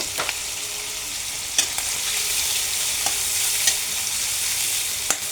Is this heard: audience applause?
no